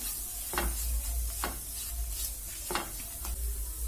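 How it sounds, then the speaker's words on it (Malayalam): Samosa filling is sautéed in a pan, giving a steady low sizzle broken by about four close scraping spoon strokes at irregular intervals, with no talking. "ഞാൻ ചേർത്തിട്ട് ജസ്റ്റ് ഒന്ന് വഴറ്റാം."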